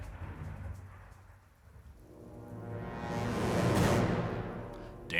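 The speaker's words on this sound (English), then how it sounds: "that thunder's loud as shit" Loud thunder from a thunderstorm rolls in over steady rain, swelling to a heavy rumbling peak midway before easing off, with rain hissing throughout.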